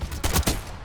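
Gunfire in Black Ops 6, a cluster of sharp, loud shots packed into under a second, close up, with no talk over it.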